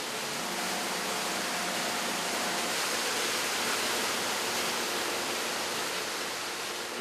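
Running salt water flows steadily over freshly made cheese in a cooling bath at a large cheese factory, a loud continuous rushing wash of water with no pauses.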